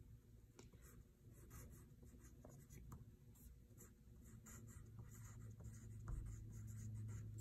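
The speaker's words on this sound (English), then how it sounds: "take our pencil, pinch our pencil, and write our name at the top on this line" A pencil scratches steadily across a paper label, a continuous dry scribbling with small pauses, close and fairly quiet against a low background hum.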